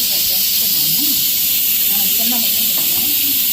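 A pressure cooker hisses steadily with venting steam while mango dal cooks in a home kitchen; the hiss runs through the whole clip under a voice talking nearby.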